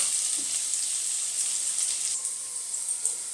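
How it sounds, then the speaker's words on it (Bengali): Prawns and potatoes fry in hot oil over a medium flame for a Bengali prawn curry, giving a steady, fairly quiet high-pitched sizzle with no talking. "এবার আমি মাছগুলো এর মধ্যে দিয়ে ভেজে নেব।"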